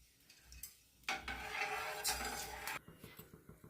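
Sooji upma being stirred in a pan with water: a quiet opening, then a louder stretch of scraping and bubbling, followed by light rhythmic clinks of the spoon against the pan.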